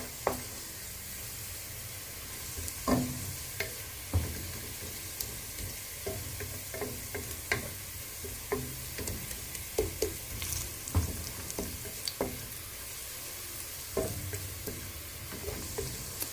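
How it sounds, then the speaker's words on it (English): Pilau ingredients fry in a pot with a steady soft sizzle while a spoon stirs and scrapes in irregular close clicks and knocks, continuous without talk. "so you have to keep stirring until you get the desired color that you want"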